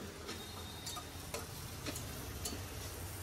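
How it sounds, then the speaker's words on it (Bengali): Onion and garlic frying in a pan, a steady low hiss of sizzling with faint scattered ticks and scrapes of stirring, quiet and close, no talking. "পেঁয়াজ আর রসুনটা একটু ভেজে নিলাম।"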